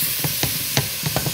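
Minced kofta meat with kofta spices and minced garlic is turned over in a pan, giving a quick run of close, rhythmic scraping stir strokes over a low sizzle.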